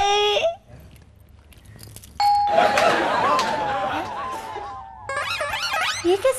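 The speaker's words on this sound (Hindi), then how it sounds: "वो नहीं बजी, डोरबेल बजा, डोरबेल" A doorbell chime sounds in a home, a sustained ringing tone with harmonic overtones that rises out of a quieter passage and carries for a few seconds alongside background chatter and music.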